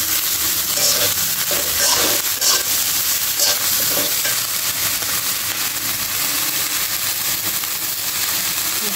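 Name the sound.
vegetables frying and being stirred with spices in a pan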